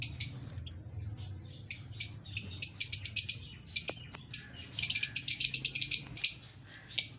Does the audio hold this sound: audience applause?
no